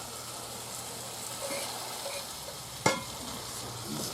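Bacon fries in a cast-iron Dutch oven on a Nuke outdoor grill, giving a faint, steady background sizzle with one sharp metallic clink partway through.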